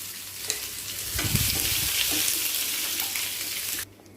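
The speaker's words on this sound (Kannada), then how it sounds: "ಎಣ್ಣೆ ಕಾಯಲಿಕ್ಕೂ ಸಾಸಿವೆ ಹಾಕ್ತಾಯಿದ್ದೀನಿ ಸಾಸಿವೆ ಸಿಡಿಲಿಕ್ಕೂ ಕರಿಬೇವು ಹಾಕ್ತಾಯಿದ್ದೀನಿ" Mustard seeds, curry leaves, urad dal and green chili frying in hot oil, a loud continuous sizzle that swells after the ingredients go in and crackles steadily before cutting off abruptly near the end.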